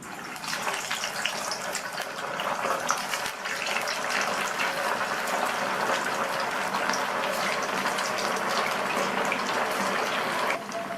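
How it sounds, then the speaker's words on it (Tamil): Vada for a tea-time snack fry in hot oil in a kadai, a steady dense sizzle and bubbling crackle that stays loud and even throughout, with no voices. "கடாயில் எண்ணெய் விட்டு சூடாயிடுச்சு. ஒவ்வொரு வடையாக எண்ணெயில் சேர்த்துடலாம்."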